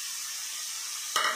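Finely chopped onion hits a hot pan for pav bhaji and sizzles steadily in oil, with a sharper clatter near the end as it is stirred, close and alone without voices.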